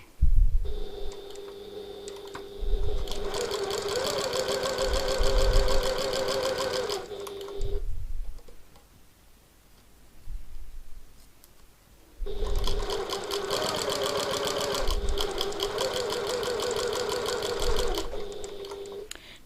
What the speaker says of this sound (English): So I'm going to use my regular stitch length and I'm going to sew directly on the box